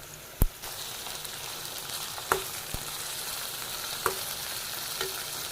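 Chopped tomatoes hit hot oil in a pan with onions sautéed to a translucent stage, giving a steady, close frying sizzle with a few sharp crackles and pops scattered through it, no voices present.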